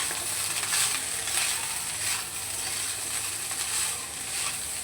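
Rice with beaten egg frying in a pan while being stirred, a steady close sizzle with faint scraping from the stirring and no talking.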